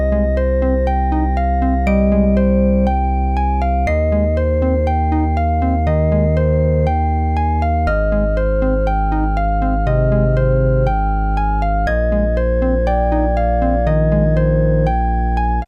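Sequenced melody from the Fugue Machine iPad app with three players layered, interlocking synthetic notes over sustained bass tones changing every few seconds, dense, loud and continuous, purely instrumental.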